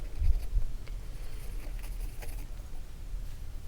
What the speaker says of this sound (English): scribbling all over the place. So coloring it all in,